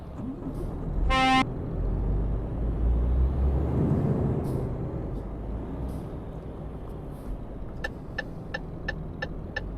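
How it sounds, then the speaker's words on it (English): In Euro Truck Simulator 2, a truck's trailer legs are raised with a mechanical whir under an idling engine, followed by a short honk and a string of rapid warning beeps. "Raising the trailer legs."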